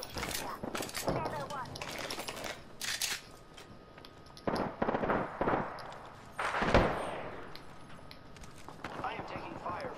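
Gunfire in the Apex Legends video game, with bursts of shots and impacts arriving in clusters, mixed under frequent excited talk from players.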